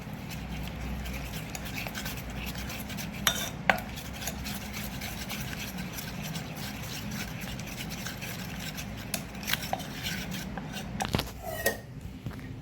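Besan khaman batter with lemon flowers and sugar being stirred in one direction in a bowl, a soft continuous rubbing and scraping with occasional light clicks of the spoon.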